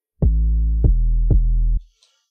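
Deep 808 bass notes from an FL Studio amapiano beat, three sustained booming hits in a row, loud and alone, ending abruptly with a faint click.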